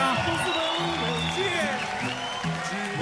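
Audience applause at a Romanian TV talent-show taping, a steady wash of clapping and cheering from a crowd with voices calling out over it throughout.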